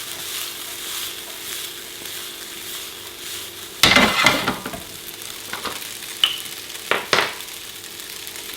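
Cooked gluten-free pasta tossed in a hot pan, a quiet sizzle followed by a sudden burst of stirring and scraping, then a few sharper clinks and scrapes, close by and with no voices.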